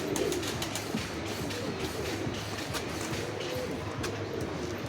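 Giribaj pigeons coo amid a busy, steady background din, the calls low and partly buried in noise without clear voices.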